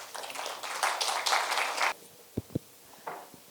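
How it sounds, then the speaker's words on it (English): Audience applause for panelists at a food-business summit panel on Indian wine and chocolate: a dense, steady burst of clapping that stops abruptly, followed by a few scattered, isolated taps in a quieter room. "A huge round of applause, please."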